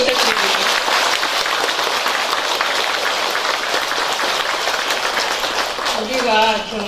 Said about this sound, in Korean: 다시 한번 큰 박수 부탁드립니다